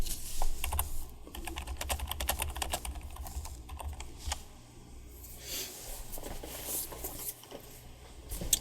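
Typing a chat message on a computer keyboard during an online strategy game: rapid, close clicking keystrokes in uneven bursts, with brief pauses and a final sharper key press at the end.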